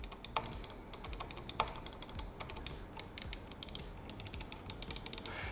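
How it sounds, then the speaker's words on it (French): A Glorious Model O Wireless gaming mouse gives quick, light button clicks in a close, quiet series. The clicks come in irregular bursts with a springy, snappy character. "Les clics ils sont assez souples, ils reviennent bien, très élastiques. Ils font un bruit aussi agréable à l'oreille."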